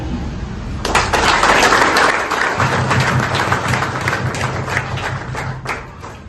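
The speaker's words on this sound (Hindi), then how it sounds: "उनके सम्मान में जबरदस्त ताली" A crowd applauds at a Vanu Organic state coordinator office opening in Daltonganj, dense clapping that bursts in loudly after a moment and keeps going steadily to the end.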